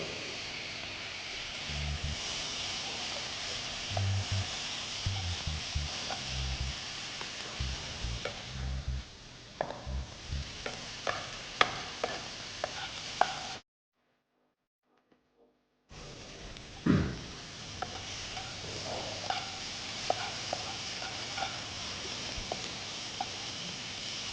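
Tomatoes sizzle and crackle in a hot pan with occasional stirring clicks and scrapes while being sautéed for a curry-leaf and garlic kuzhambu; the sizzling cuts out briefly, then resumes.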